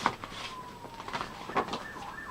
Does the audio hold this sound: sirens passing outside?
yes